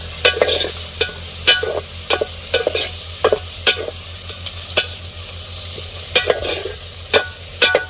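Onions, green chillies and fenugreek frying in a pan under a constant loud sizzle, while a spoon stirs with regular scraping clacks against the metal and no one speaks.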